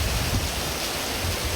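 Heavy rain in early September, a steady, dense roar of falling water that stays loud and unbroken throughout, with no voices.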